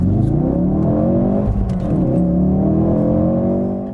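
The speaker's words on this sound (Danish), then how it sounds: "Så er jeg sikker på, at den der fede motorlyd, den altid kommer med i programmet." A Renault Megane Sport Tourer engine revs loudly and steadily nearby, its pitch rising and falling in sweeps before easing off slightly at the end.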